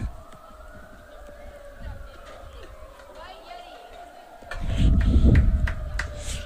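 Distant wailing sirens rise and fall in downtown Manhattan under people talking at a girls' lacrosse game, then a louder burst of crowd noise and rumble.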